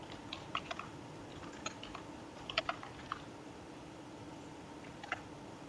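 Soft, irregular clicking of computer keyboard keys while code is typed, quiet and close, with a steady faint background hiss and no talking.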